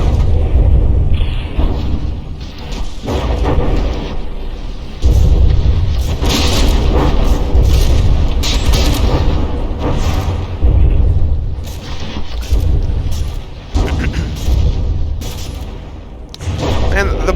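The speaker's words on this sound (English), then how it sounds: "that APS gun is doing some serious damage" An APS cannon blasts away during a battleship fight in the game From the Depths, with continuous heavy booms and rapid explosive volleys filling the scene while a commentator talks over them.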